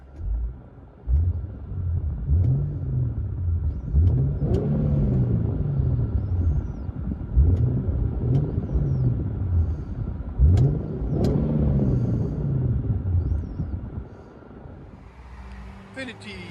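A 2014 Infiniti Q50 3.7L V6 with dual Flowmaster Flow FX exhaust revving, heard inside: several deep rising and falling revs rumbling close and loud, then settling to idle, with a voice briefly at the end.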